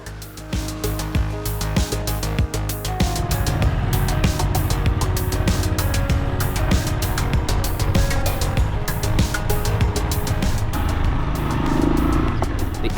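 Small 125cc motorcycle engines labour up a climb in Morocco's Atlas Mountains, a steady loud drone with a rough, pulsing buzz and wind noise throughout.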